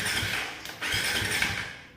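A motorcycle fitted with an aftermarket power-up module cranks without catching, a steady whirring starter drone with a brief break partway before it resumes and then fades out.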